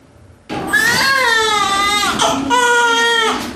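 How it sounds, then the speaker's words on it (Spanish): A newborn baby cries in a delivery room, loud and close, two long wailing cries with a short pause between them, alone without talk. "El llanto prolongado que se escucha en una sala de parto es el sonido más esperado por una madre que está dando a luz."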